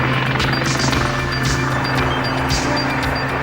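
A Sea King anti-submarine helicopter flies close by with a loud, steady rotor drone and a rhythmic blade chop throughout.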